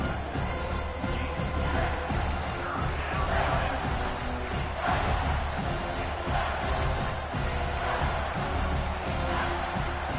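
A football stadium crowd roars loudly and without a break as fans urge the defense toward a red-zone stop. The dense wall of noise swells and dips without a pause.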